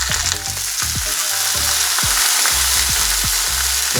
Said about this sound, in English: Get that sizzle on, just like that.